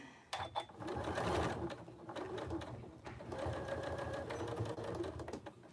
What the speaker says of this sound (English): I can just go like this and back stitch it right there